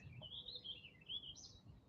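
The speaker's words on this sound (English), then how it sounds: "I believe they're house finches." Faint high-pitched chirps and twittering from house finches feeding at a jelly feeder, a quick run of thin notes over a low rumbling background.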